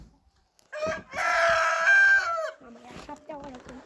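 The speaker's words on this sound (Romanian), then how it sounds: "e a șaptea oară când cântă cocoșul" A rooster crows loudly and close by in one long, strained call, with shorter clucking fowl sounds following it.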